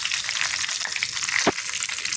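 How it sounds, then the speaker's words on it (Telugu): Curry leaves crackle and sizzle in hot oil during a tempering for a grated raw mango pickle, a steady close hiss with a sharper pop midway, no talking. "ఇప్పుడు మనం కరివేపాకు వేసుకుందాం. ఇందులోనే మంచిగా ఫ్రై అయిన తర్వాత"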